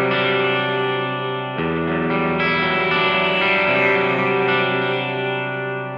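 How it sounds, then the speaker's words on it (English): Electric guitar played through the Sweep Echo effect on a Line 6 HX Stomp, sustained distorted chords with sweeping, swirling repeats and reverb tails, loud and continuous with one chord change partway through. "Another one is cool, it's called Sweep Echo, and this is more if you're kind of picking arpeggios or something like that."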